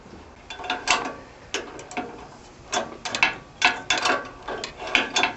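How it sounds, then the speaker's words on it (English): Metal wrenches clink and rattle together as they are gathered up during repair of a Lincoln Idealarc 250 welder, a series of sharp close metallic clatters in irregular bursts with no talking. "pause for wrench gathering."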